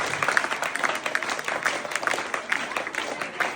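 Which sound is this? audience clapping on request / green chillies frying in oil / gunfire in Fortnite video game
audience clapping on request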